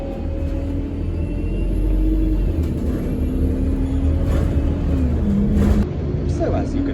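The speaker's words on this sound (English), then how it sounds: "So as you can see, and probably hear, I made the bus." A bus engine rumbles steadily from inside the vehicle, a continuous low drone with shifting tones as it runs, with road noise and a voice talking over it.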